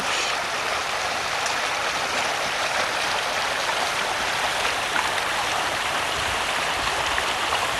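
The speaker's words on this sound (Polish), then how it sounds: "Znowu potok Halicz." A steady, even rush of flowing water fills the clip, the Halicz mountain stream in the Bieszczady mountains running over stones, constant and fairly close, with no voices.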